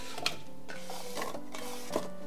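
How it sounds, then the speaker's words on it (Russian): Diced apples are stirred into cake batter for a skillet apple pie, giving several soft scraping and clinking strokes of a utensil against the bowl at an uneven rhythm, close and quiet, with no talk. "И сразу перемешаем."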